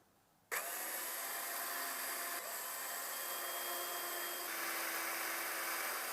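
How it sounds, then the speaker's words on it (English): A power drill bores mounting holes for a camera bracket: a loud, steady high whine that starts abruptly and runs unbroken for several seconds at close range, with no talking. "And then you just drill the holes."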